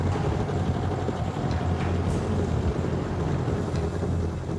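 A diesel-engined Wolverine robot drives through a lake: a steady, close, low engine rumble mixed with churning water and wind noise, continuous throughout with no talking.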